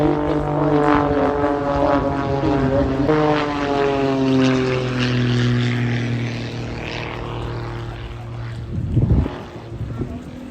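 A large six-cylinder propeller aerobatic aircraft flies overhead at an airshow, its engine a loud, steady droning roar with a shifting pitch as it passes, fading slightly toward the end, with wind buffeting the microphone.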